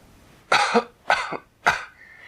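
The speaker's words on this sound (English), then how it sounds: "she went right back to coughing" A child coughing three times in separate harsh bursts, close and loud, with short quiet pauses between each cough and a faint tone trailing at the end.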